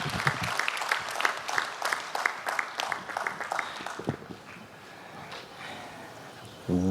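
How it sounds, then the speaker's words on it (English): Audience applause at a blockchain conference award ceremony as the winner comes on stage, a dense burst of clapping that thins out over several seconds, with scattered claps near the end. "Round of applause, ladies and gentlemen."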